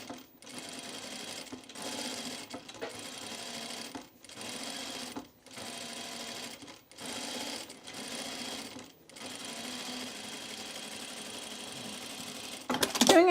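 Sewing machine stitching a button placket on a Fairfield shirt, running in repeated bursts of steady whirring stitching separated by short pauses, close and moderately quiet, with a louder clatter at the end.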